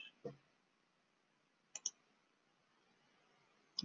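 A computer mouse clicks crisply three times at close range, one single click followed by a quick double pair and then another, against near silence.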